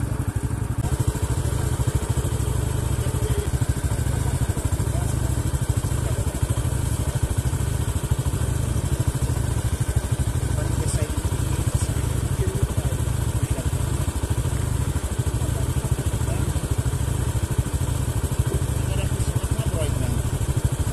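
A small motorcycle runs steadily on a rough, muddy dirt road through rural farmland in Estrela de Alagoas after rain, its engine rumbling close and continuous for the whole stretch while people talk over it.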